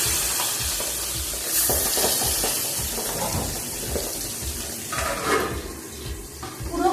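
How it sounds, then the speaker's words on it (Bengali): Pabda fish fries in hot oil, a close, bright sizzle with spattering pops and some clatter of the pan, rising and falling in bursts without any voices. "তেল গরম হয়ে গেছে আমি এবার মাছটা ছেড়ে দেবো"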